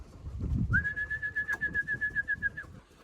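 Pigeons coo in low, rhythmic pulses during hot weather, and a steady high whistle runs across the middle of the clip.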